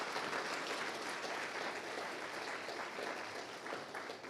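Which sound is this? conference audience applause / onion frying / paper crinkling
conference audience applause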